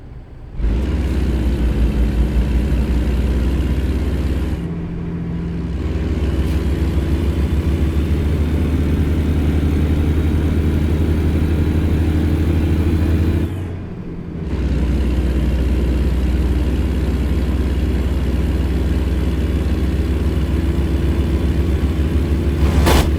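A heavy truck engine in American Truck Simulator drones steadily at low pitch with the engine brake on, with two brief dips in loudness, otherwise continuous and close.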